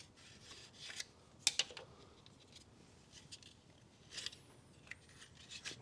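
A spark plug lead snapping onto the spark plug of a 2005 Skoda Fabia 1.2 petrol engine gives a couple of sharp, faint clicks, one near the start and another later, over a quiet background with no talking.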